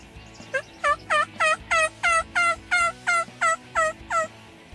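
Turkey calls ring out during a turkey hunt: a steady series of about a dozen sharp, evenly spaced yelps, clear and fairly close, with no talk.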